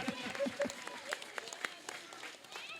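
Scattered, uneven hand claps from an audience at an Arya Samaj yagna gathering, applauding a group of children, with voices and crowd murmur underneath.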